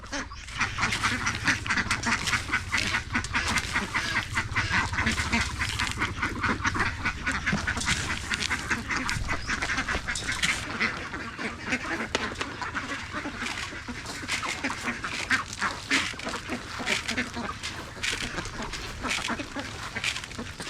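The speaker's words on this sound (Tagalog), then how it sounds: "magpapakain po tayo ng mais sa ating mga alagang mga itik" Pet ducks being fed corn at home, quacking continuously as a loud, dense flock close by for the whole stretch.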